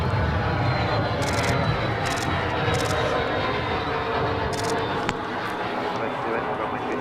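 A Navair Jet Services jet aircraft moving at Adelaide Airport, with a loud steady engine roar held throughout. Distant talk is faintly audible underneath.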